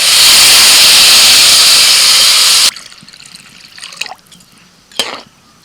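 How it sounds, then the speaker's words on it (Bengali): Water poured into a pot of 500 g of rice, about double the rice amount, makes a loud continuous splashing rush for almost three seconds, then stops, leaving a couple of soft knocks. "যে পরিমাণ চাল নিয়েছি তার ডবল পরিমাণ জল দিচ্ছি"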